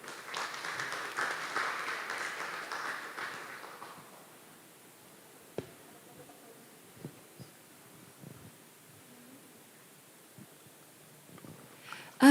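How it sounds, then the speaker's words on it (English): A conference audience at a deeptech forum gives a round of applause that lasts about four seconds. It then drops to a quiet hall with scattered faint thumps and rustles. "Giving round of applause for Dr."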